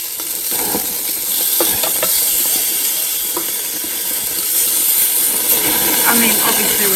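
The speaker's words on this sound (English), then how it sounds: "So this is our lamb cook." Lamb cooking in a pan, a constant loud sizzle and hiss with faint stirring scrapes and clicks throughout, close up, with a little talk in the background.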